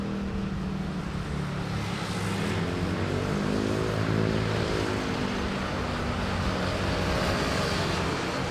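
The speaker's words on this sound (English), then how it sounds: "Philippine Airlines A320 arriving from" A Philippine Airlines A320 arrives at Manila Airport. The low, steady roar of the airliner's engines swells and passes in the distance, with a faint pitch shift as it goes by and no one speaking.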